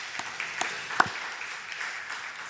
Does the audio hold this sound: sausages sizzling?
no